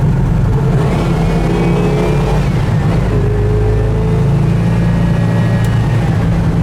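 Loud, steady engine drone of a 1970 Pontiac GTO Judge muscle car moving fast, with a low rumble and shifting whine as it pulls along the road.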